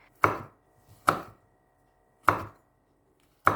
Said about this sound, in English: Slice 1 piece of chili.